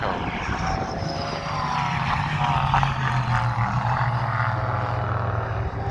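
A Dodge Viper race car roars past at Thruxton during a Classic Sports Car Club meeting on a cold day, its deep engine drone heard from a distance as a steady, rumbling pass with slight pitch shift.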